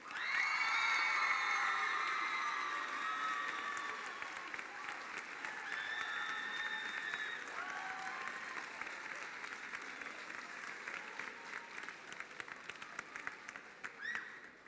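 A gala audience breaks into applause mixed with cheers and whoops, the clapping dense at first, then settling and thinning into scattered claps near the end, with crowd voices and shouts along the way.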